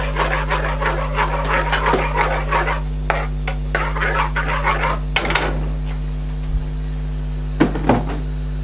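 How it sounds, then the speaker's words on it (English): Naga pickle being mixed into ingredients with a spoon, a run of close rubbing, scraping strokes and clinks over a constant low hum, pausing midway before a few final scrapes. "So mix all this in."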